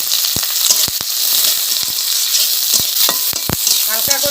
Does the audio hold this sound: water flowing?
no